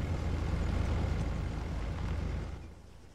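A Tigr armored vehicle from ARMA 3 rumbles past with a loud, heavy low engine drone that holds steady before fading out near the end, with no voices.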